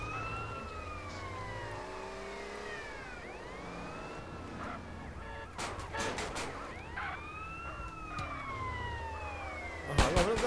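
Police car siren in GTA San Andreas, a continuous wailing rise-and-fall cycle under game traffic and engine noise, with sharp impact bursts near the end.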